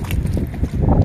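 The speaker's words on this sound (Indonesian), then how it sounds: "Ih, kencangnya angin." Strong wind at a shore gusts hard into the microphone during low-tide octopus hunting, a loud, steady buffeting roar with no talk.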